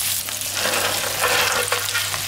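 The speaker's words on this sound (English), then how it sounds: "Now in goes the garlic, and you don't want to overcook the garlic, you just want to throw it in." Garlic sizzles loudly in a hot pan while being stirred, a dense, close frying hiss with scraping strokes of the utensil throughout, no voices.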